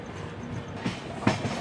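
A passenger train arriving at Bhusawal Junction on a parallel track, heard as a steady low rumble of rolling wagons with two sharper wheel clacks near the end, moderately loud and without voices.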